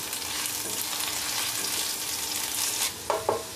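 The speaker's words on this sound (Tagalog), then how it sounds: "Maglalagay tayo ng mantika. Ipiprito lang natin yung ating patatas." Potatoes frying in cooking oil, a loud, steady close sizzle with a few clattering stirs near the end, no talk.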